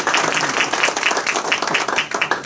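An audience at a National School Choice Week celebration breaks into applause, a dense, steady patter of many hands clapping close by for a couple of seconds.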